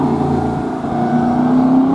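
A Volkswagen 1800 engine runs steadily at close range, a loud even drone with a low rumble and a slight rise in pitch toward the end.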